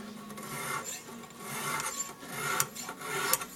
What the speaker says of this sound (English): this extra coarse really hogs the metal off pretty good